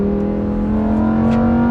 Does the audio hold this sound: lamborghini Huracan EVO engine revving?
yes